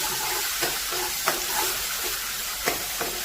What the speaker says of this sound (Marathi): तेल टाकायचं, हे वाटण व्यवस्थित परतून घ्यायचं